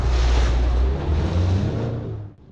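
Small choppy waves slap against a boat crossing a shallow bar, with steady wind and water rush loud and close throughout before dropping away at the end.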